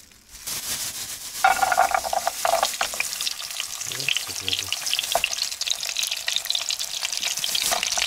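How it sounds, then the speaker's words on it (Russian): Homemade pelmeni dumplings fry in a pan inside a log cabin in a Siberian forest, a steady close sizzle that runs throughout, with occasional light scrapes and clinks from stirring. "Собираемся сейчас жарить пельмени, которые налепили в прошлом ролике"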